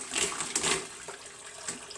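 Homemade lobster stock is poured slowly from a pot through a strainer, producing a soft, quiet trickling and splashing of liquid with a few slightly stronger gushes.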